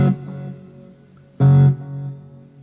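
An electric guitar through a Boss GX-100 processor with delay: one chord fades out, then a second, louder chord is struck sharply and decays into a lingering, echoing tail.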